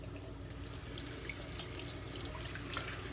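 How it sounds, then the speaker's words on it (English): Fingers covered in shaving soap lather are rinsed under a running tap, a faint, steady stream of water splashing continuously into a sink. "so I'll rinse my fingers off here"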